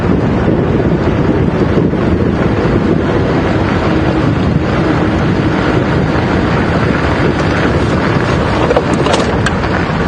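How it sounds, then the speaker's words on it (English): Strong wind buffets the microphone during an afternoon safari drive at Djuma Game Reserve, making a loud, continuous rushing roar throughout. "There you can see quite a strong wind."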